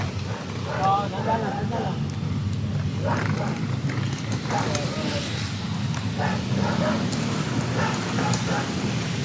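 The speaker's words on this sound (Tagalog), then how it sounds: "Ang daming aso dito." Several dogs bark repeatedly at a moderate distance in Liwasang Bonifacio during a clearing operation, over a steady low rumble of background noise.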